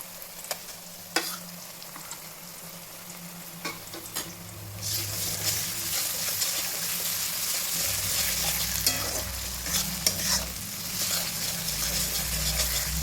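Ginger garlic paste sizzles in oil with browned onions in a pan for mutton curry, a quieter sputter at first that rises into a steady, loud frying hiss with occasional stirring clicks, close up and without talk.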